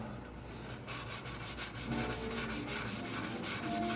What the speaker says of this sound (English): you want to make sure you sand with the grain